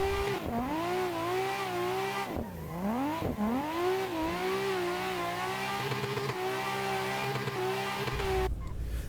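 A race car in the Assetto Corsa driving game screams around a track, engine pitch rising and falling through repeated shifts and revs, loud and continuous, with a brief tire squeal near the end.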